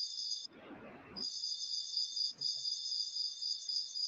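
Crickets chirp in a continuous high, shrill trill that runs steadily through the whole stretch. A brief mid-range noise interrupts it early on, and there is a short dip later; no voices are heard.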